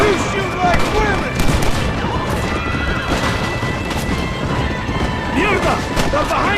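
Gunfire in a Red Dead Redemption cutscene, a dense fusillade of shots crackling continuously under shouted voices, with horse neighs amid the loud, busy battle noise.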